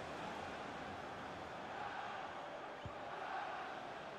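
Football crowd in a stadium roaring and urging the players on during an attack, a dense continuous wash of distant voices at low, steady level, with a brief thump partway through.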